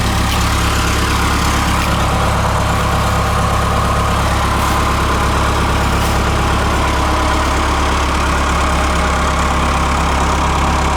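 Trackless MT5 snowblower engine running steadily at a constant idle-like drone for the whole stretch, loud and close with a continuous low rumble and no talking.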